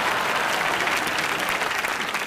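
A studio audience at a live comedy show breaks into steady, full applause, a dense uninterrupted wash of clapping that holds at one loud level throughout.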